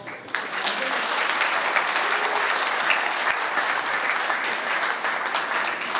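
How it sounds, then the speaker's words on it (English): A banquet audience gives a round of applause at a PBA presidential address, dense, sustained clapping from a large room that holds steady for several seconds. "Can we have a round of applause?"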